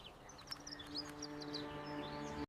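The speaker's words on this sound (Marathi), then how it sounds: "एका मोठ्या आंब्याच्या झाडावर चिकू नावाची गोडशी चिमणी राहत होती." A sparrow chirps in quick, light, repeated tweets from a mango tree, fairly faint over a steady humming musical drone.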